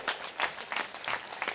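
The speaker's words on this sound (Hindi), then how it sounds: "तुम ताली ठोको अपने लिए" An audience at a spiritual discourse claps in several rhythmic bursts, evenly spaced and moderately loud, with no voices over it.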